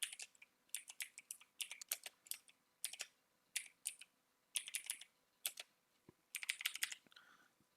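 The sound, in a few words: typing on a computer keyboard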